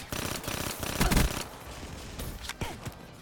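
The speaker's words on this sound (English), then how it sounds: "Keep hearing these shots fired at me." Bursts of rapid gunfire from a free-for-all online shooter match come in quick volleys, then lighter scattered shots. The sound is fairly quiet, as if heard at a distance.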